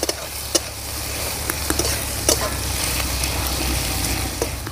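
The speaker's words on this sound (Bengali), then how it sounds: "দিয়ে দেবো পেঁয়াজ কুচি, পেঁয়াজগুলো আমি ভালো করে ভেজে নেব।" Chopped onions and whole cumin seeds sizzling in hot oil in a pan for an egg curry, a steady frying hiss broken by occasional sharp scraping stirs.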